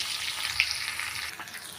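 Mustard seeds and cumin splutter in hot oil while tempering, along with dried chilli, curry leaves and asafoetida, a close, continuous crackling sizzle with scattered tiny pops and no talk.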